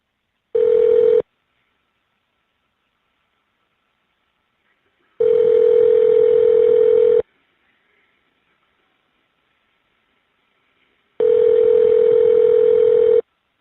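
A telephone number being dialed on an Evercom inmate calling line: three steady, loud tone bursts separated by silence, the first short and the next two about two seconds each.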